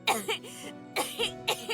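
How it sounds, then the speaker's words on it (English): A woman in the video game Divinity: Original Sin 2 breaks into a fit of close, raspy coughs, three bursts of two or three harsh hacks each, with strained breaths between them. "She stops mid-shout, descending into a fit of coughing, wheezing and groaning."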